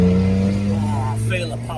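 A classic car's engine with a newly fitted exhaust holds a steady, loud, close idle-to-rev drone with a deep humming tone, while someone talks briefly over it.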